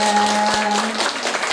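An audience at a village PKK and Srikandi gathering in Bulakamba, Brebes, claps steadily in a dense, even wash of applause, with a faint held tone running underneath.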